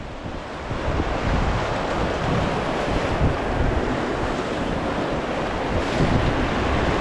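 River rapids in Rishikesh, Uttarakhand, roar steadily around a raft, a loud continuous rush of churning white water mixed with wind buffeting the microphone.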